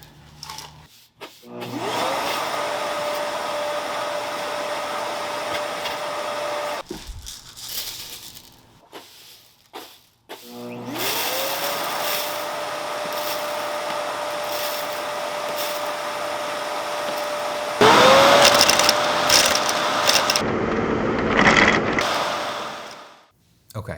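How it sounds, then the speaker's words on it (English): A 1000-watt EyeVac touchless vacuum motor whirs up to a steady drone, cuts out, then starts again twice more, loud and close, with brief pauses between runs. "it'll automatically turn on the 1000 watt vacuum"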